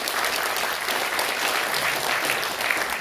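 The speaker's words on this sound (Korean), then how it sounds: "큰 박수로 이렇게" Dense, even applause from a large audience at an opening ceremony, warmly greeting the president of the association of independence patriots' descendants; continuous clapping with no pauses.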